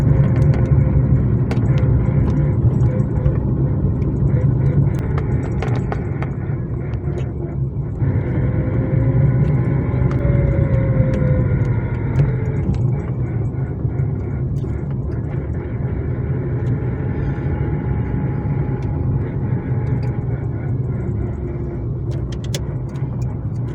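A new school bus rolls past on a town street, its engine rumbling loud and close before easing off, with traffic noise around it.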